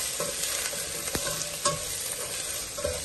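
Garlic fries in a pan for a minced-meat macaroni dish, giving a close, steady sizzle with spoon scrapes and knocks as it is stirred briskly.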